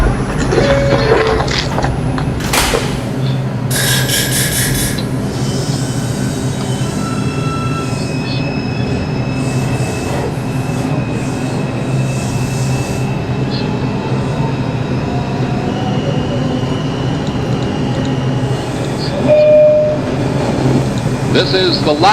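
An R142 5 train on the NYC subway rolls toward 3rd Avenue–149th Street, a loud continuous rumble with squealing wheels, whining motor tones and brief hissing bursts throughout.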